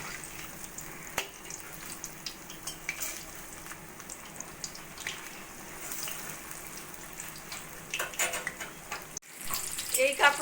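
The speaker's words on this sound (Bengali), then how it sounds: "একইভাবে সব কাঁকরোলগুলোই ভেজে নেব" Stuffed kakrol, spiny gourd, fries in hot oil with a soft, continuous sizzle, quiet and close, while utensils clink and scrape now and then, louder toward the end.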